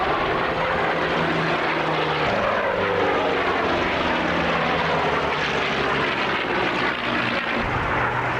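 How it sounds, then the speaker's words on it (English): Twin-engine B-25 Mitchell warbirds roar past at an airshow, a loud, continuous propeller-engine drone with shifting pitch as the aircraft pass, filling the whole stretch without talk. "Mitchell's now landing as a pair."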